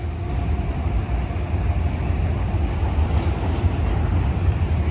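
A freight train carrying autorack cars rolls past at steady volume, a continuous low rumble and clatter of wheels on rail with no break over the whole stretch.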